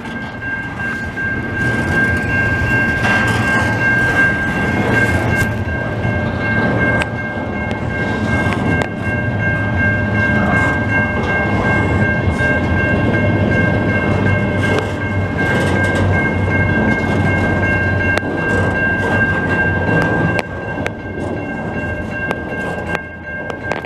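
A long CN freight train rolls steadily past a level crossing in Montreal, a loud continuous rumble of wagons with a sustained tonal whine or horn-like tone over it, no voices.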